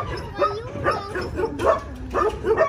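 A dog yips and whimpers in short bursts nearby, several high-pitched barks and whines rising and falling in quick succession.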